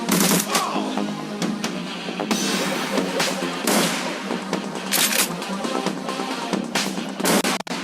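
Rapid bursts of gunfire and explosive booms from the Shadowrun Returns video game, loud and dense in continuous overlapping volleys with sharp peaks throughout.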